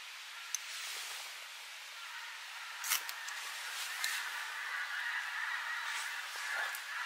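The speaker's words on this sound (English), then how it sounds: "Geese kicking off. Geese are going at it." Geese honk faintly in the distance during a wild camping trip in Scotland, a soft, thin scattering of calls over quiet outdoor ambience.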